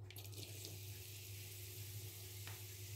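Garlic softening gently in oil over a pan gives a steady, faint sizzle and crackle that holds evenly throughout, with no voices.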